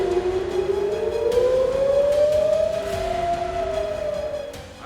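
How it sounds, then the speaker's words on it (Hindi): A civil defense air raid siren wails during an Iranian ballistic missile attack on Israel, one long rising and falling tone sounding loud and steady, then fading slightly at the end. "ईरान के इजराइल पर 200 से ज्यादा मिसाइलें दागे जाने के बाद सायरन बजने लगे।"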